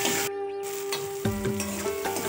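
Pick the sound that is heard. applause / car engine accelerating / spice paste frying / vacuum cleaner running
spice paste frying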